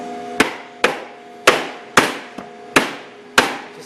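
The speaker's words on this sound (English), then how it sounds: "You grab your barrel, you put it over your key, and then you just tap." Six sharp taps of a hammer seat a metal flange down over the barrel of an industrial 400 reel, evenly spaced and close, each strike ringing briefly with no talking.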